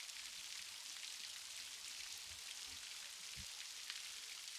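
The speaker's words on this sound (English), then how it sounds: "The raindrops dance on the leaves, creating a melodic rhythm that calms your mind." Rain falls on rainforest leaves as a dense, even hiss of countless drops, with a few soft, heavier patters standing out, quiet and continuous without any voices.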